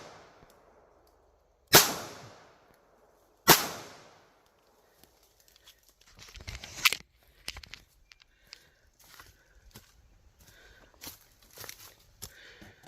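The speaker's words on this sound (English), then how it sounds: "we're going to send 3 rounds there into Mr. Sadface" A Smith & Wesson CSX E-Series pistol fires two sharp, loud shots a couple of seconds apart, followed by softer scattered clicks, shuffling and handling noises at close range.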